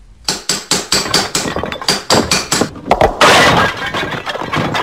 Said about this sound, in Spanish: E hizo añicos la monstruosa obra, dejando solo intacta a la mariposa.